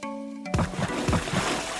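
Cartoon children splash and play in a roadside pool of water on their way to school, with a burst of splashing that breaks into repeated rhythmic sloshing strikes, close and fairly loud.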